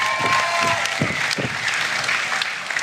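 Audience applause for pitching contestants at a Shark Tank-style event, brief and dense, with a few close, sharp claps standing out over the crowd's clapping and a voice faintly underneath.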